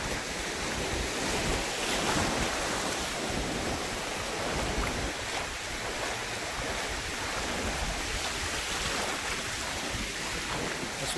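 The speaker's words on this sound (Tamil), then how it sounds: "தண்ணி வந்து பாருங்க, அங்கிட்டும் இங்கிட்டும் வந்து மோதுது" Sea waves surge and crash continuously on a Seychelles beach where two currents meet, a loud unbroken wash mixed with wind buffeting the microphone.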